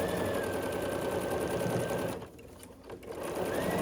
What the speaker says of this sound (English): and then I start sewing